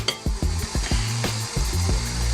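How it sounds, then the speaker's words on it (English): A pressure cooker coming up to pressure gives a steady hiss in a home kitchen, with utensil knocks and clinks over it. "What you were hearing was my pressure cooker coming to pressure."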